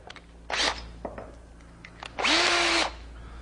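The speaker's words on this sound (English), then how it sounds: "Let's drill a hole." Two bursts of a power drill whirring, a short one then a longer steady run, with a falling pitch as it winds down; close and loud.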